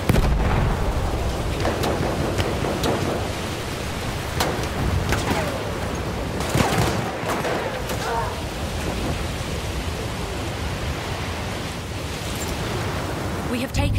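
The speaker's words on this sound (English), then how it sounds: "Bomba atıyorum!" Battlefield 1 combat with bombs detonating: dense, continuous roar of battle noise with repeated sharp booming bursts scattered throughout, loud and close, with faint voices mixed in.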